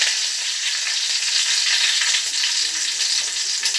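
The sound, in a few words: curry leaves added to hot oil, sizzling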